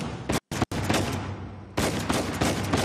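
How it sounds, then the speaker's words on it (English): Gunshots from above in Uncharted 4, heard as dense rapid bursts of gunfire with a brief break, then a loud sustained volley of shots that continues to the end. "all I see are shots from up top"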